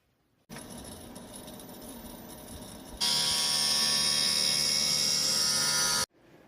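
Eyeglass lens edging machine grinding a yellow-tinted spectacle lens, a steady whirring grind that steps up sharply louder and brighter about halfway through, then cuts off abruptly.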